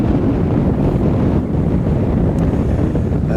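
Steady, roaring wind buffets the microphone at a fishing lake, a loud continuous rumble with surging gusts and no voices.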